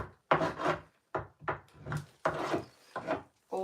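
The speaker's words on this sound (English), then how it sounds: "So I'm just going to add some wax here." Wax is rubbed by hand onto a red-painted wooden piece, a series of short dry scrubbing strokes, close and soft, coming in uneven bursts with brief gaps between.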